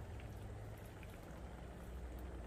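Gasoline trickles and splashes steadily into a container, a soft continuous pour with faint gurgling throughout.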